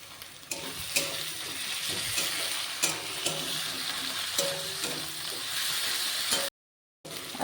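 Ginger and garlic paste sizzling and frying in hot oil for a country-chicken curry, a steady loud hiss with spatula scrapes and taps throughout, broken by a brief silent gap near the end.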